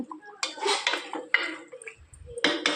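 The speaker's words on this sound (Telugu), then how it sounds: "దీన్ని ఇప్పుడు మూత పెడదాం." A metal lid set onto a pot of cooking chicken in a home kitchen, a few clanking and scraping metal contacts in quick succession, close and fairly loud, with no talk.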